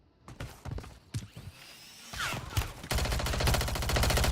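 Rapid automatic gunfire from a Call of Duty Warzone MW3 match, starting as scattered separate shots and building into a loud, continuous burst with mechanical clatter in the final seconds.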